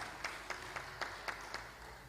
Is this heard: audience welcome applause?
yes